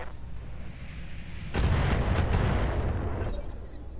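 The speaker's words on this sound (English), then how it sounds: "standard mortar rounds apparently clear minefields too now" Mortar rounds fire in the Roguetech BattleTech mod: after a quiet stretch, a sudden loud cluster of booming, crackling blasts rolls on for nearly two seconds, then fades back to a low rumble.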